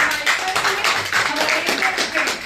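An audience at a Khelo India sports dialogue event on a Kargil campus claps to welcome the Prime Minister, loud, close clapping with bursts and a faint voice mixed in underneath.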